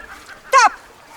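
A dog at a dog show obedience exercise gives a single short, sharp bark against a quiet background.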